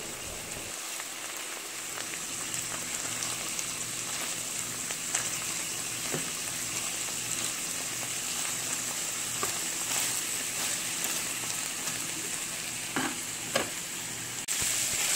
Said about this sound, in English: I just sauteed that with the ground beef